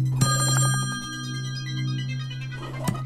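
A telephone in the video game Slayaway Camp rings with a steady electronic bell tone, fairly loud and close, with brief clicks near the start and end and no talk.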